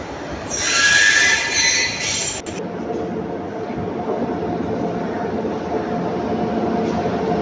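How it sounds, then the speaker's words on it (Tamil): Tirupati Express train at Palakkad railway station, arriving at high speed: a loud rushing roar with bright wheel squeal early on, then a steady heavy rumble of passing wagons that continues to the end. "திருப்பதி வண்டிங்க செம்ம ஸ்பீடில் வருது."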